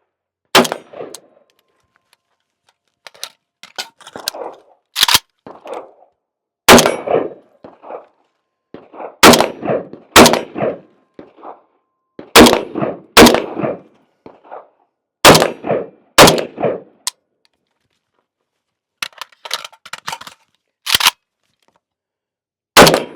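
A re-barreled JRA Galil ARM rifle fires in loud, sharp shots, some single and some in quick clusters, with short pauses between bursts and no talking.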